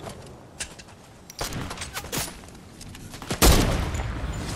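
Gunfire in Fortnite Zero Build squads: scattered shots crack through the first half, then a denser burst of pistol and SMG fire lands near the end, loud against quieter movement sounds and no talk.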